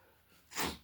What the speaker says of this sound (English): A bit of dust on the book, and that's what's making me sneeze.